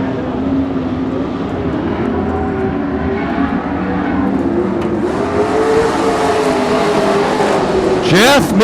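Hot rod race cars with chain-driven motorcycle engines lapping an oval track, a steady loud engine drone throughout with passing cars near the end, under a public-address announcer's voice.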